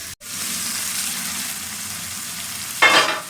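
Close, steady sizzle of new potatoes and peas frying in a pan, with a brief clatter at the start and a louder burst of hissing near the end as they are stirred.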